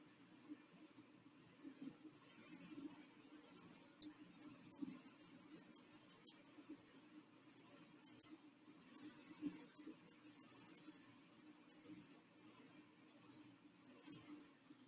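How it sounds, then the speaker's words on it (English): A pencil sketches quickly on tracing paper, faint soft scratchy strokes coming in short irregular bursts, close and otherwise quiet. "And I'm doing this on tracing paper quickly for a demo."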